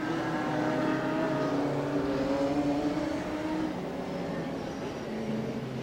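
Stock race cars at Rockford Speedway accelerate out of turn four under the green flag, several engines roaring together with rising and falling pitch as the pack sweeps by, loud and fairly close.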